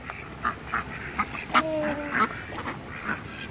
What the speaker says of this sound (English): Ducky over there.